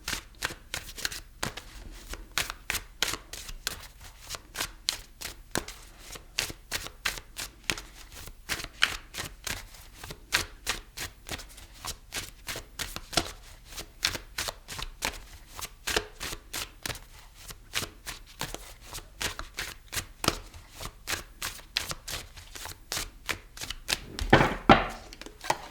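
Tarot cards are shuffled for a reading in a long run of quick, crisp riffling flicks, steady and close throughout, with a louder rustle near the end.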